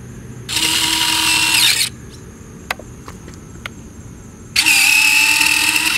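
Retractable landing gear on a Dynam RC P-51D Mustang model runs with a loud, close electric whine for about a second and a half, then falls quiet except for a few small clicks, and whines again as the gear cycles back.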